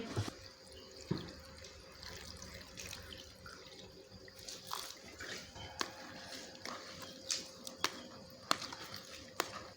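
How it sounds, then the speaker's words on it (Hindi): Water sloshes and splashes quietly in a bowl as chopped onions are rinsed, with scattered drips and small clicks. "प्याज को हम धो लेंगे।"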